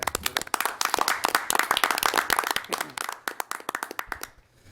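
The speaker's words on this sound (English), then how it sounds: "So just a huge round of applause and thank you for all that they do" Applause fills the room at an Oshkosh Common Council meeting, honouring local workers. Many hands clap briskly and densely at close range, then thin to a few scattered claps before fading out.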